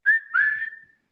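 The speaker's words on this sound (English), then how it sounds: "Blow the whistle. Come on now." A short, bright two-part whistle sounds close and loud: a brief note, then a longer one that holds and slowly fades out, with no talk around it.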